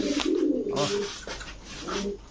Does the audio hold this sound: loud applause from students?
no